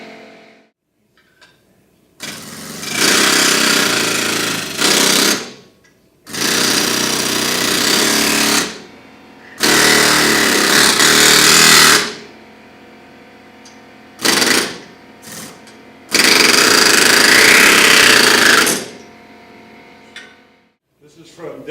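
Pneumatic hemming tool folding sheet metal over in stages to form a hem flange on a car body panel, heard as several loud, sustained hammering bursts of two to three seconds each, separated by short pauses.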